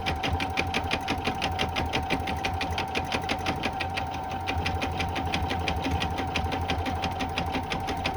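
An embroidery sewing machine stitches steadily, its rapid even needle strokes forming a close, continuous mechanical hum with a constant rhythmic clatter throughout.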